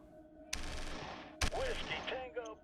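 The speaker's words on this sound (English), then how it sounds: "can we use our Hueys in over here to do another airstrike?" Huey helicopters carry out an airstrike in the Shadow Empire war game, producing two sharp gunfire bursts followed by rumbling impacts and a few scattered synthetic effect tones.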